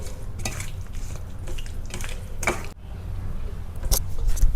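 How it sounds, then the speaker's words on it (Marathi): Chicken pieces are mixed by hand in a metal bowl with lemon, salt and ginger-garlic paste, giving soft wet squelching and occasional clinks against the bowl, close and moderately loud. "मिक्स करून घेतो"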